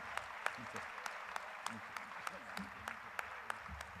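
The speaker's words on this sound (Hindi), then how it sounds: "आपकी तालियां अनवरत जारी रहना चाहिए।" Continuous applause from a large crowd at a religious gathering in India attended by a chief minister, steady clapping with a few sharper claps, heard faintly beneath ongoing speech over a low murmur.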